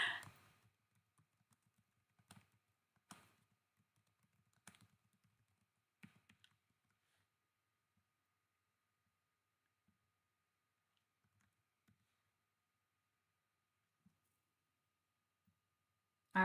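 Scattered keystrokes on a computer keyboard, a few faint clusters of clicks early on that thin out to occasional lone taps over long quiet gaps.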